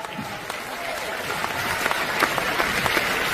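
An audience at a large company event in 2024 breaks into steady, dense applause, a continuous wash of many hands clapping that swells slightly toward the end.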